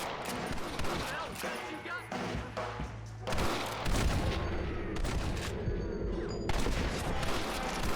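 Rapid volleys of gunfire in Red Dead Redemption during Dutch's last stand, with dense overlapping shots and booming impacts sustained throughout, loud and close over a low game soundtrack.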